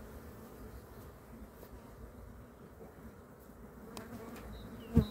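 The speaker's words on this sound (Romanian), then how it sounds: "Mai are și pe rama asta niște albine." Honey bees buzz softly on a hive frame from a colony with chalkbrood, a steady low drone at close range with a brief thump near the end.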